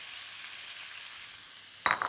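Rice stick noodles stirred and tossed with duck in a hot pan, a steady soft sizzle of frying that runs alone throughout, broken near the end by a brief sharper clatter of the pan.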